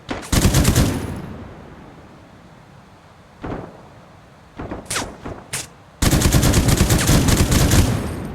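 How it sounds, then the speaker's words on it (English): Rapid automatic gunfire in a video game: a dense burst at the start, scattered single shots and short volleys in the middle, then a long sustained burst of fire to the end, with no talking. "Sir, they're shooting at us!"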